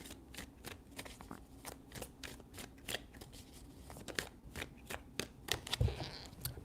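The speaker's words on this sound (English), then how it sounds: "3 shuffles." Tarot cards being shuffled by hand, a rapid series of soft papery slaps and riffles in uneven bursts, close and quiet, with no talking.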